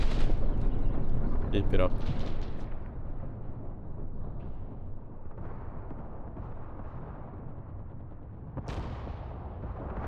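Artillery strikes land in the Mius Front WW2 game, with heavy booming blasts and a rolling rumble, a sharper crack near the start and another late impact, while a voice briefly speaks over it.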